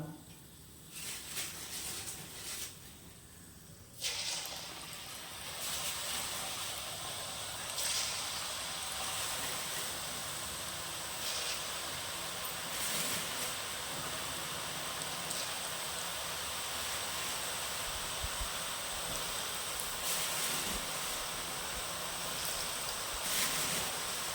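Murukku dough pressed into a large pan of hot oil fries with a steady, dense sizzling hiss that runs continuously close by, after a brief quieter moment at the start.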